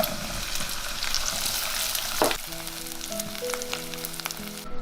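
Shiitake mushrooms, dried shrimp and dried scallops go into hot oil with rendered Chinese sausage, a bright close sizzle with a sharp burst as they hit the pan, then stirring and crackling.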